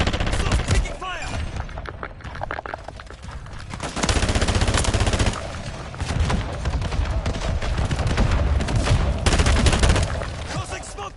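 Sustained automatic gunfire in Call of Duty Modern Warfare III, dense rapid bursts of shots crackling almost continuously, loud and close, with brief pauses between volleys.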